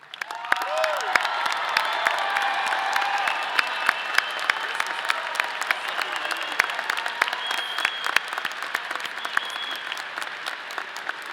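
A commencement crowd for a College of Natural Sciences ceremony breaks into loud, sustained applause, many hands clapping together with scattered cheers and voices mixed in across the full length.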